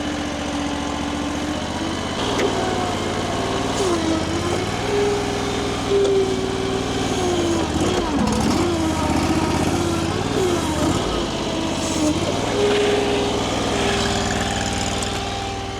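An AGT LRT23 Chinese mini skid steer's small engine drones steadily and loudly while it rips out roots, its pitch rising and dipping slightly under load with occasional clunks.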